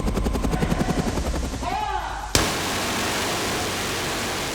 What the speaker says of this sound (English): fly a helicopter down the front of a building, shoot a window out